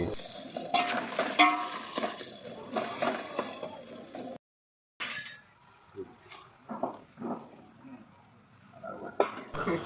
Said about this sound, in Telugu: మధ్యలో టమాటాలు బాగా ఫ్రై అయ్యేటట్లు గంటగా తిప్పుకుంటూ ఉండాలి.